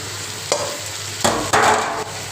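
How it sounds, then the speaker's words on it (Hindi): Meat frying in a pot while being stirred, bursts of scraping stir strokes over a crackling sizzle, close and fairly loud. "ये अब हमारा गोश्त जो है वो अच्छी तरह भून रहा है।"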